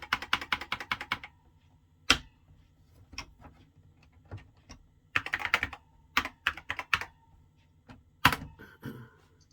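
Keys clatter on a Tatung Einstein computer keyboard in irregular bursts of rapid clicks separated by short pauses, with occasional heavier single thunks, close and clear with no talk.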